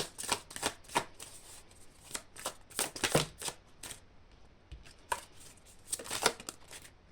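Playing cards shuffled by hand for a tarot-style reading, a series of quick riffling bursts and soft slaps with short pauses between, close and fairly quiet with no talk.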